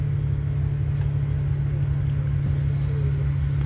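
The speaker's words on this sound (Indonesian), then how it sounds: "Ini bis sudah mulai berjalan" A city bus on route 68 from Yuen Long station pulls away, its engine a steady low rumble and hum that stays constant and loud inside the cabin, with no talk.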